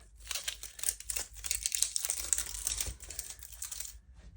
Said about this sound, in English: you are going to start by pulling the corner up and just go slowly, and it should all peel away like this